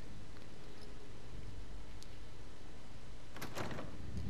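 A door in the Fallout 4 video game slides open inside the Old North Church, a brief whooshing burst in the middle of a steady low background hum, with no voices over it.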